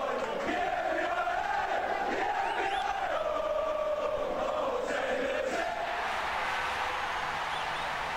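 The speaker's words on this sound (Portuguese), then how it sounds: "Uma torcida aí que canta igual." A football stadium crowd in PES 2019 on PS2, during Master League play, chants and sings in unison, a sustained, massed melodic roar that swells and shifts pitch across the stretch.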